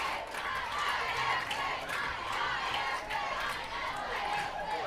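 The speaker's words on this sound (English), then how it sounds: "you really can hear this homecoming crowd getting into it now" Homecoming crowd at a high school varsity football game, a loud continuous roar of cheering and chatter from the stands with an announcer talking over it.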